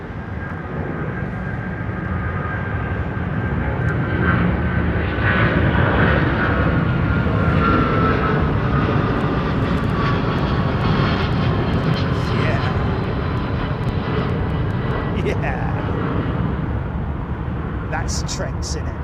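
An airliner with Rolls-Royce Trent engines at London Heathrow Airport gives a continuous loud roar that swells and fades slightly over nearly twenty seconds, with people talking over it.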